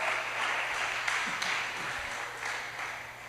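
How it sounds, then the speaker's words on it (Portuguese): A church congregation applauds together, a steady, moderately loud wash of clapping that fills the room throughout with no voices standing out. "Quantos podem aplaudir o Senhor Jesus Cristo aqui neste lugar?"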